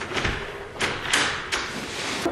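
A door fitted with a freshly installed deadbolt lock swinging open, a few short knocks and thumps of the latch and door against its frame, close by and sharp over quiet room tone.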